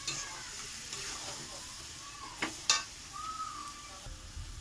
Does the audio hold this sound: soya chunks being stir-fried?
yes